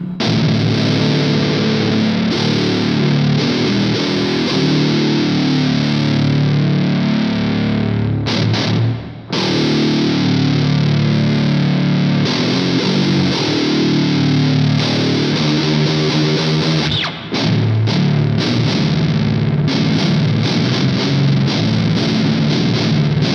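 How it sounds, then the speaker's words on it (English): Electric guitar played through a high-gain metal distortion pedal, with heavy saturated chugging riffs, loud and continuous, broken by two brief pauses, with no talking. "It's a really good metal pedal."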